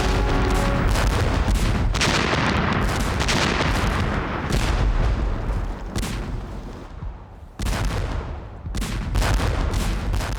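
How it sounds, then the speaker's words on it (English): A British World War I artillery bombardment at the Somme pounds away in dense, overlapping booms and blasts, loud and continuous, with only brief dips between rolling salvos. "At dawn on June 26, 1916, the shelling began."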